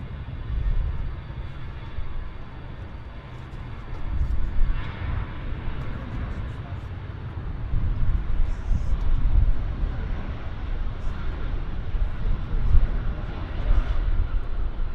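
Avro RJ85 jet airliner on a hot takeoff at Vancouver Airport, a steady low rumbling engine roar heard from a distance that swells gradually, with faint voices underneath.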